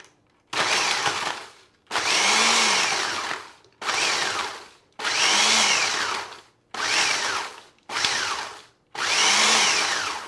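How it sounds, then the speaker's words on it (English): A food processor pulses ingredients into coarse flour in about seven loud, close bursts of grinding whir, each lasting one to two seconds and separated by brief silences, with no talking. "We're going to pulsate the processor."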